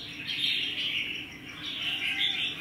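Red-whiskered bulbuls chirp and warble in a steady run of bright, high calls over a low background hum, fairly close and continuous, with no one talking.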